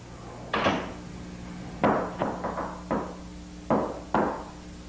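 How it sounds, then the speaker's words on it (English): Someone knocks on a door, sounding as sharp close raps in uneven groups: one, then a quick cluster of four, then single knocks. A low hum runs underneath the knocking. "You never knock anymore. Why don't you knock?"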